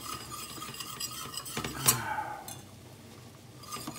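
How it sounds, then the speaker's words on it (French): A whisk stirs a butter and flour roux in a hot pan, scraping and clinking against the metal with a soft background sizzle and one sharper knock, close and steady. "pour enlever le goût de la farine, on fouette ça tranquillement, environ 1 minute"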